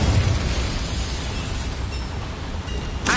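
The Incendio fire spell bursts in Hogwarts Legacy as a loud, broad whooshing blast that fills the whole clip, with another sharp flare right at the end.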